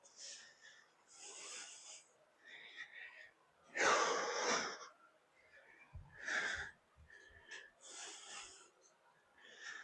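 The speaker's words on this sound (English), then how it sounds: "Breathing's a little bit more labored as well" Heavy, labored breathing during a cardio workout, several loud gasping and wheezing breaths in an uneven rhythm, close to the microphone, with no talk.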